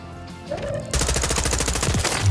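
Full-auto M16 gunfire in Warzone erupts after a short quiet lead-in, a loud, rapid, continuous burst of shots rattling close by for over a second.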